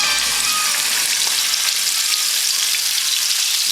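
Boneless pork chops frying in a pan, a steady, close, loud hiss and crackle of sizzling oil that holds without a break.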